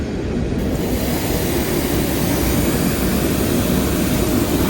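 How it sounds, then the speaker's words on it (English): A train rolls by near a spot where a 2005 VW GTI 1.8t engine bay is being rinsed, a loud continuous low rumble and roar filling the whole stretch without talk. "we got a train coming by"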